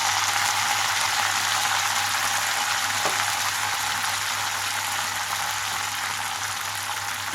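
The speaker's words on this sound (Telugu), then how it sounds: "ఇక్కడైతే ధనియాలన్నీ వేగిన తర్వాత ఇందులోకి పుదీనా వేసేసుకున్నాను." Mint leaves dropped into hot oil over already-fried coriander seeds for a spicy mint chutney give a steady, dense sizzle and crackle that holds at an even level throughout, with no voices.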